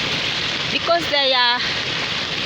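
Heavy rain pours steadily in Kenya, a dense continuous hiss running through the whole stretch while someone talks briefly over it.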